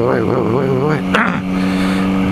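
A Yamaha MT-09 motorcycle engine revs on an open road, its pitch climbing and dipping in quick surges before settling into a steady drone, with a rider talking over it.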